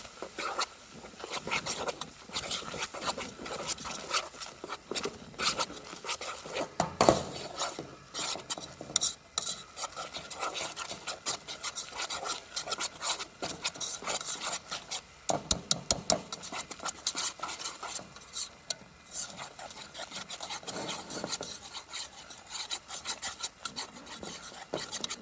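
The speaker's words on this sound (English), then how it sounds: "We're going to add the same amount of flour. And we're going to make sure we whisk that around really good." Flour is whisked into rendered fat in a pan to make a roux for backcountry biscuits and gravy: continuous scraping, rasping strokes with a light sizzle, steady and close, with a few sharper clatters along the way.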